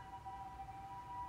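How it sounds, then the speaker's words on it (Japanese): Faint ambulance siren outside on a rainy night, a thin wavering two-tone wail held under a low background hum, distant and steady through the moment. "めっちゃピーポー言っとるけん、"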